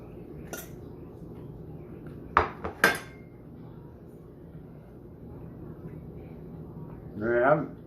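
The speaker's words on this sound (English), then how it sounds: "So we're just gonna scoop a little bit here." Utensil scooping Philly cheesesteak pasta from a cooking pot, a few sharp metallic clinks and scrapes against the pot over quiet room background, with a voice speaking near the end.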